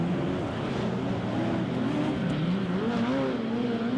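Speedway race cars run wheel to wheel down the back straight at a night meeting at Ruapuna Speedway, a loud continuous engine roar with wavering revs and no pause.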